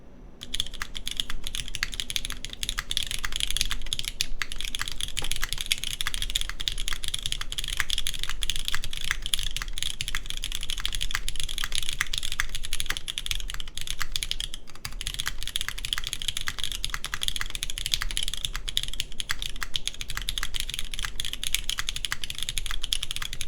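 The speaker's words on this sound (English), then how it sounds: "Once again, aluminum plate, MX blacks, and GMK Hooty." Rapid, continuous typing on a mechanical keyboard with MX Black switches, an aluminum plate and GMK Hooty keycaps, loud and close with dense, even clacking throughout.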